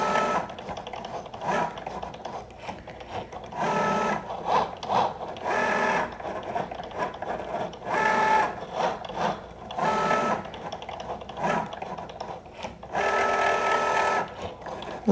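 A Cricut Joy Xtra cutting machine cuts designs for magnetic bookmarks, making quick whirring and buzzing bursts as it runs around each shape, with short pauses between passes, close and moderately loud.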